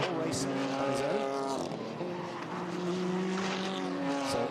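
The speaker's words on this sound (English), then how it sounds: "So a tough morning's work for Wang Hao as they go through this tight right-hander" GT4 race cars, including a McLaren, driving through a tight right-hand corner at the China GT round in Ningbo, with loud sustained engine drones shifting pitch under commentary.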